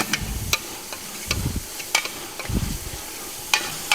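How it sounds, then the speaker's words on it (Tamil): Fenugreek seeds sauté in hot oil for Ramadan nombu kanji, a soft sizzle with intermittent stirring scrapes and clinks of a spoon against the pot, fairly quiet and close. "ஒரு பத்து கிராம் வெந்தயம் போட்டுட்டு நல்லா கொஞ்சம் அந்த ஆயில் கொஞ்சம் நல்லா வதக்கி எடுங்க"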